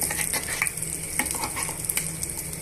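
Loud, continuous sizzling of tomato chutney dropped into hot tempering oil, with stirring scrapes and clinks from a pan.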